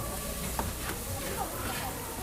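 Ingredients sautéing in a pan for a home-style Kerala dish, with a steady sizzle and hiss and occasional stirring clicks, while a voice talks over it.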